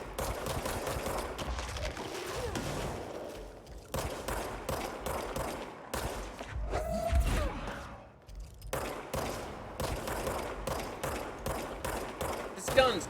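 Gunfire from the video game Control, with repeated rapid shots and bursts over a dense game soundscape, fairly loud and sustained with brief pauses.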